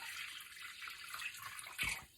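Warm water poured into a Pyrex bowl, a steady soft hiss and splash, close and fairly faint, swelling briefly toward the end.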